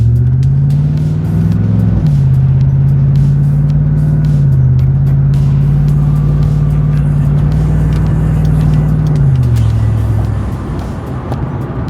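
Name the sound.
modified C5 Corvette engine while driving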